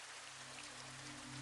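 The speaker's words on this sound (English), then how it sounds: "listening to the rain on the roof" Steady rain falling on a roof in the dark before dawn, a dense, even patter with a low continuous hum beneath it, constant in level throughout and with no voices.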